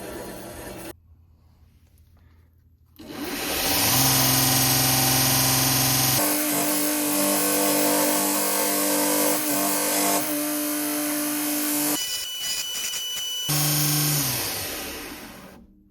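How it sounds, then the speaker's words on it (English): A grinder works on an aftermarket car part, with a loud continuous whine and rough grinding that holds steady for long stretches, broken by brief pauses where the tool spins down and restarts. "we'll finish it with the grinder, and yeah. Let's grind."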